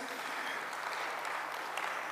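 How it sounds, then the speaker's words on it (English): A gathered audience gives a steady round of applause to welcome a guest speaker, an even, continuous patter of many hands throughout the short clip. "Let us give him a round of applause,"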